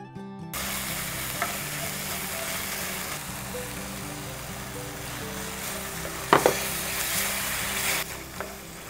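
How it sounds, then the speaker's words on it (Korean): Pork in gochujang seasoning stir-fried in a pot for gochujang jjigae, a steady close sizzle with scraping stir strokes and a few sharp clanks near the end, no talking. "이렇게 양념을 넣고 제육볶음 하듯이 약간 볶아주시면 이렇게 바닥에 살짝 눌어붙는 것들이 생겨요"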